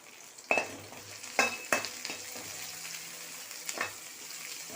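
Pepper, garlic and mint are sautéed in a pan for yellow pumpkin soup, a soft sizzle punctuated by several sharp spoon scrapes and clinks as the mixture is stirred, fairly quiet and close.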